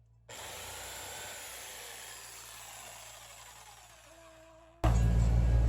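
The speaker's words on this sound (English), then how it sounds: "I made a corner with a power tool." A jigsaw cuts through flooring with a steady, close buzzing whine for several seconds, then stops and gives way to a louder burst of noise at the end.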